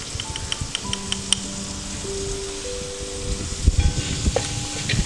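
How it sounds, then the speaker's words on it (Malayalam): Sliced onions with salt and turmeric sizzle steadily in an oiled pan, a soft continuous frying hiss with a few spatula clicks and scrapes, close and without talk. "ഒരല്പം മഞ്ഞൾ പൊടിയും കൂടെ ചേർത്ത് കൊടുത്ത് നന്നായിട്ട് വഴറ്റിയെടുക്കാം"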